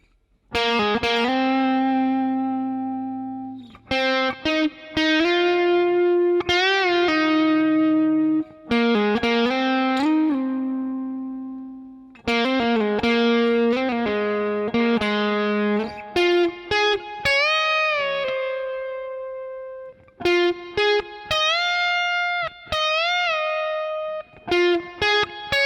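Electric guitar playing the solo from a song: sustained, bent lead notes and short melodic phrases with brief pauses between them, close and clear, played alone without voices.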